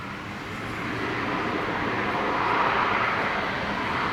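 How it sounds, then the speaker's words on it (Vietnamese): An Air Cambodia ATR72-600 turboprop airliner takes off from Tan Son Nhat airport, a steady broadband engine roar that swells over the first second and then holds loud and continuous throughout, with no talk. "mời mọi người chiêm ngưỡng pha cất cánh của chiếc máy bay với màu sơn nhận diện thương hiệu mới của Air Cambodia nhé"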